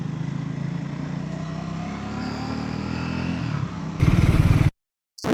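Steady low engine drone of a motorcycle cruising on a road toward Haridwar, holding an even pitch, then a louder rougher burst of engine noise before a sudden cut to silence.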